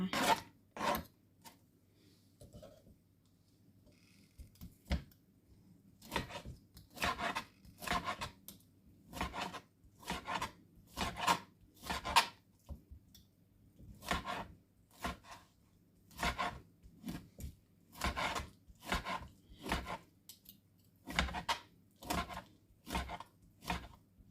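Repeated knife strokes slice through meat onto a cutting board, preparing Thai spicy grilled pork salad (yam moo nam tok), crisp chopping sounds in irregular bursts with short pauses between them.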